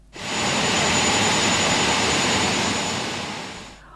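A jet aircraft lands at Ankara Esenboğa Airport, its engines a loud, steady roar that fills the clip, swelling in quickly and then slowly easing off near the end, with a thin high whine riding on top.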